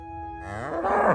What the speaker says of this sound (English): Of course I have a cow.